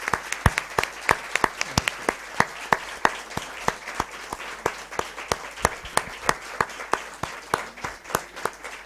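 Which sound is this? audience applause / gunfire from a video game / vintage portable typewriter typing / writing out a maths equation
audience applause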